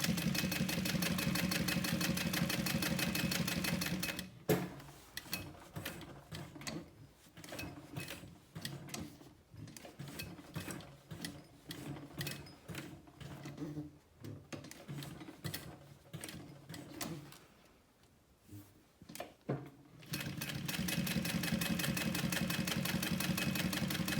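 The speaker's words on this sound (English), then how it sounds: "I'm going to take this to the machine and go ahead and sew 1/8 inch from the edge" A sewing machine stitching the edge of a leather pocket wallet, a close, steady mechanical whir with rapid needle clatter, slowing into uneven bursts and pauses midway before running continuously again.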